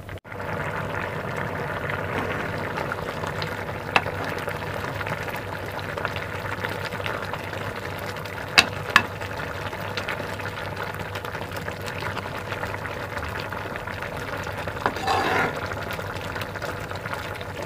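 Dal and spinach simmer in a pot for a village-style palak massoppu, giving a steady low bubbling and hiss throughout, close and moderately loud, with a few small clinks and no talk.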